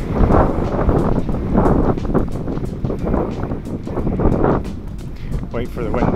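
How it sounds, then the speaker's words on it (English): Strong gusting wind in the open Badlands of South Dakota buffets the microphone with loud, close, continuous roaring rumble and crackle, voices talking underneath throughout. "it's really windy right now"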